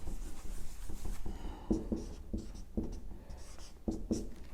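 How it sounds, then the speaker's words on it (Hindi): Chalk or marker writing on a classroom board during a physics lesson on Torricelli's theorem: a run of short scratchy strokes with brief pauses, close and clear, with no talk over it. "मैं ये h यहां लिख देता हूं।"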